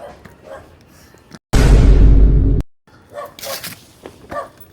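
A dog barks in a loud, sustained burst at close range, set against quieter outdoor sounds and faint voices.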